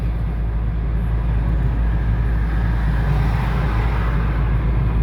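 Car driving at speed on a highway, a steady loud road and engine roar with wind and tyre noise, unbroken throughout, no talking.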